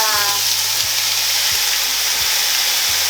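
Meat sizzling in a hot pan (kawali) for Batanes-style valenciana, a steady loud frying hiss with no talk.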